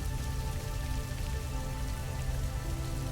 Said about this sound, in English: The rain fell softly